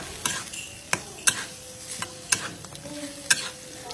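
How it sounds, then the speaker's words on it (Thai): Chicken, onion and Chinese kale are stir-fried with roasted chili paste, sizzling steadily in the pan under repeated sharp scrapes and clacks of a spatula, with no talking. "แล้วก็คะน้าค่ะ จากนั้นก็ผัดต่อค่ะ"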